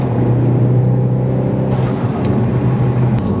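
A Ford Focus RS pulls hard under steady acceleration, heard close from inside the car with a loud, even engine drone and road roar. A couple of brief clicks stand out faintly near the end, and nobody speaks.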